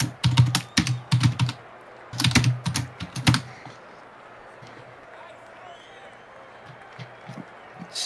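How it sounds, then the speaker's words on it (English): Rapid bursts of clattering keystrokes on a computer keyboard come in quick clusters early on, then fade into a quieter background of distant crowd murmur with occasional soft taps. "They're saying I'm typing like crazy, bro."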